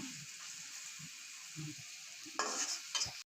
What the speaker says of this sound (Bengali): সবদিকে নাড়াচাড়া করতে হবে ভালোভাবে চারদিকে নাড়াচাড়া না করলে চারপাশে পুরো যাবে